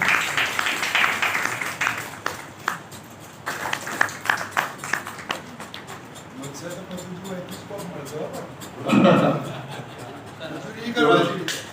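Audience applause at a school seminar in Banaskantha district, a dense patter of hands under and between a person speaking over a microphone in a hall.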